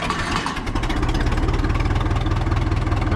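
A John Deere 3010 tractor engine, unstarted for a week or two, on a hot day, fires up and settles into a loud, close, rapid, even idle chug.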